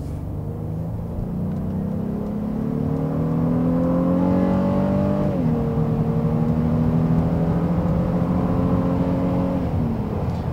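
A second-generation Honda Ridgeline midsize pickup's engine pulls steadily while driving, its rising drone climbing in pitch, dropping at a shift and climbing again, close and continuous with no talk.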